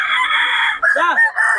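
A Sweater-breed gamefowl rooster crows loudly and close at a gamefowl festival expo, one strained, rising and falling crow filling the short moment.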